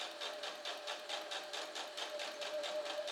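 A sewing machine runs steadily, stitching a seam close to the folded edge of a fabric bouquet bag. The close, even whir carries a quick rhythmic pulse of the needle and plays alone throughout.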